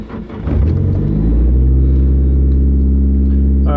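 A lowered widebody 1989 Nissan 240sx drift car pulls away and drives, its engine rising from a quieter idle into a loud, steady low rumble close by, with a brief higher whine near the end and no talking.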